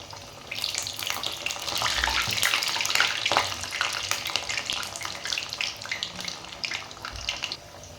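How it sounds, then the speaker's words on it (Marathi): Corn cutlets frying in hot oil, a dense, steady bubbling sizzle that swells and holds, with a few soft clunks as pieces are added, close up and without speech. "एकीकडे आपण तेल तापत ठेवलेले आहे आता आपण हे कटलेट यामध्ये सोडून घेऊया"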